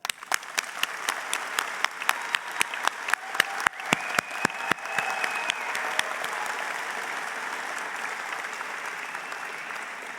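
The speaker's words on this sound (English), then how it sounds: "So let's take a moment to acknowledge our grads with a round of applause." A graduation audience applauds the graduates, a dense burst of clapping with distinct sharp claps at the start that merges into a sustained roar before slowly tapering.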